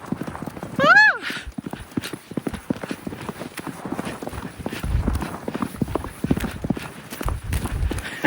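A horse on a windy trail ride sets up a quick, steady clip-clop of hooves at close range, with a single neigh near the start. A rider's voice and other noises mix in.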